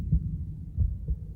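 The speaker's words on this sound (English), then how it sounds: "above the constant roar of its mother's heartbeat, it hears and reacts to her voice" A mother's heartbeat heard from inside the womb: deep, muffled low thumps in a steady double-beat rhythm over a constant murmuring roar, close and booming.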